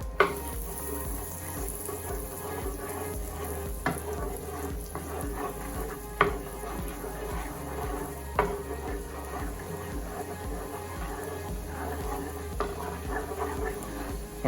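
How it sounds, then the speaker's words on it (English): Freshly chopped garlic sizzles in melted butter over a low flame, giving a steady fizzing crackle with occasional louder pops and stirring knocks throughout. "to our melted butter, we're gonna go ahead now and add our garlic. That's the freshly chopped garlic."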